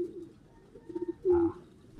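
A male racing pigeon gives soft, low cooing, faint and close in a quiet room, with one louder throaty coo near the end.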